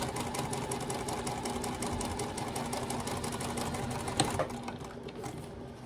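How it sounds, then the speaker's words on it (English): A sewing machine top stitches along a folded fabric edge for a small wallet, with a continuous rapid mechanical chatter close by and a brief knock near the end. "go back to the machine and top stitch along this folded edge the same way that we did this one here"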